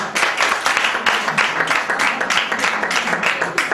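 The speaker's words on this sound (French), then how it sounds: "il est Lutello, que je vous demande d'applaudir frénétiquement" Enthusiastic audience applause at a family ceremony, loud and close, with dense rapid clapping rising and falling in waves and no speech.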